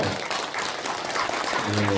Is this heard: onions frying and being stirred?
no